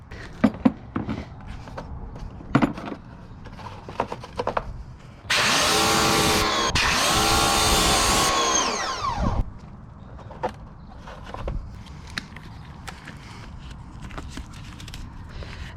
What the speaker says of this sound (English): I'm gonna wash that off with the pressure washer